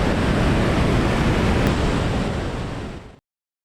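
A massive volume of rushing water, around 1.5 million cubic metres per second, roars in a loud, dense, unbroken wall of noise that holds steady before trailing off and cutting out.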